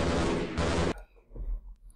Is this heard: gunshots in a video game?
yes